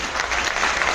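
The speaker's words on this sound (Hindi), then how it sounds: "एक बार जोरदार ताली बजा लीजिए।" Loud, dense applause from an audience at a Vishwakarma community gathering, continuous and steady throughout the short burst with no voices standing out.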